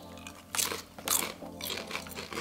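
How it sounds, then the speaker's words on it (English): Someone bites into crunchy Italian tomato and basil hard candies, producing two or three sharp, close crunches followed by softer chewing. "Oh, they look crunchy."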